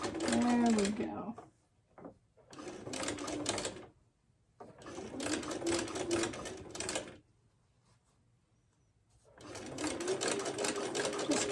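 A sewing machine stitches a seam on a quilt block in three loud, steady runs of fast mechanical whirring, each followed by a quiet pause.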